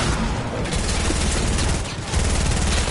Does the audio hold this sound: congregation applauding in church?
no